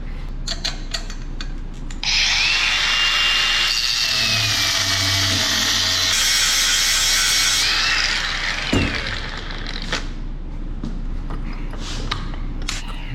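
A cutoff tool grinds through long steel bolts being shortened for battery boxes, a steady high-pitched whine lasting several seconds with brief changes in pitch, then winding down to quieter shop noise.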